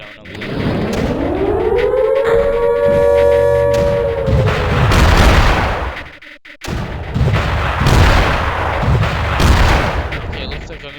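Missiles fire in the strategy game Creeper World amid a wailing siren, with loud repeated booming launches layered over the rising and falling alarm tone.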